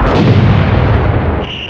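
Mortar fire booms in the video game Six Days in Fallujah, a loud low-heavy blast with a rumbling tail, followed by a brief high tone near the end.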